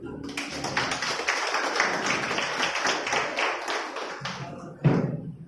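Audience at a university expert lecture claps to welcome the speaker, a few seconds of scattered, fairly close clapping that fades out, followed by a loud thump and a voice.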